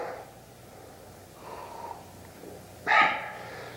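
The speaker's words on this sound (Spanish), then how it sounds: "Ese perro" A dog in a rural Mexican setting gives short snorting breaths, then a louder sharp bark near the end, close by with no talk over it.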